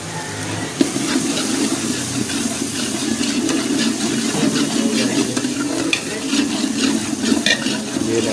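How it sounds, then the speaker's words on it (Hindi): Spices go into a pan of browned onion, tomato and ginger-garlic paste for restaurant-style aloo palak, making a steady loud sizzle and frying hiss with scattered stirring scrapes and a few sharp knocks close by, without any voices. "तो अब मैं इसमें मिसाले ऐड करने लगा हूँ"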